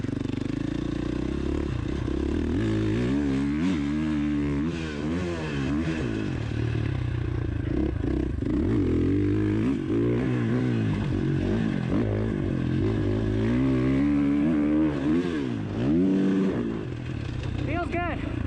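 A 2019 Husqvarna FC 450 dirt bike engine hums steadily and revs up and down throughout, with someone talking over it the whole time.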